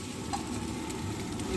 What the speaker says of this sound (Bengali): প্রথমে এগ ফ্রাই করে নিচ্ছো, তাই তো?